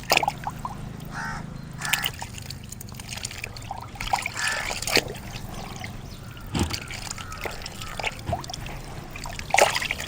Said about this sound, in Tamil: நம்ம கையால் இதை பிசைஞ்சு விட்டோம்னா அது தண்ணியிலே நல்லா கரைஞ்சிடும்.